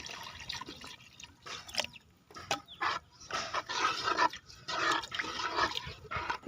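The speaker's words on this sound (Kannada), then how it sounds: "ಈಗ ಮಸಾಲ ತೊಳೆದ ನೀರನ್ನು ಹಾಕ್ತಾ ಇದ್ದೀನಿ" Water poured into frying masala for a Mangalore-style catfish curry, giving bursts of sizzling and splashing that come and go over several seconds, close and fairly quiet, with no talk.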